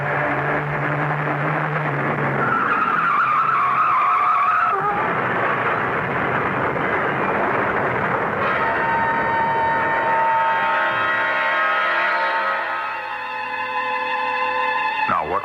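Radio-drama sound effect of a car swerving off the road to avoid a truck: a continuous loud engine roar with a high tire squeal partway through, then a grinding, rising mechanical wail as the car leaves the road.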